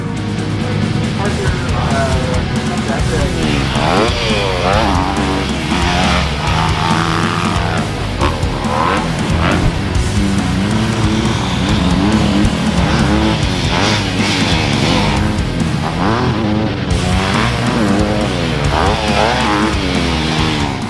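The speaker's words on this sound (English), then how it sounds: "We're at Fox Raceway riding the 2025 Honda CRF250R." A 2025 Honda CRF250R motocross bike is ridden at Fox Raceway, its engine revving loudly and continuously, rising and falling through gear changes for the whole stretch, with talk over the engine at times.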